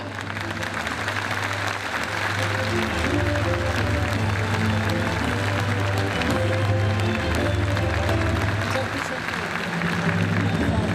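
Audience applause at an award ceremony forms a loud, sustained wash of clapping that lasts throughout, with a voice speaking over it on a hall sound system.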